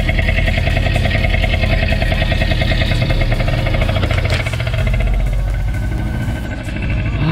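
A restored 1982 Mitsuoka BUBU501 three-wheeler with a carbureted engine and choke runs at a steady idle, loud and close, with an even mechanical throb and no break throughout.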